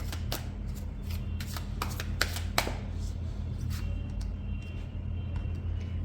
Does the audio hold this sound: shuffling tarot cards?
yes